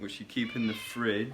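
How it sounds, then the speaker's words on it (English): A house cat meows briefly at close range, its call mixed into and partly masked by a person speaking steadily indoors. "That's my cat."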